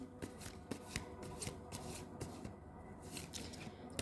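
Tarot cards shuffled by hand, a rapid run of crisp riffling flicks and soft paper slaps repeating close up and fairly quiet, with no talking.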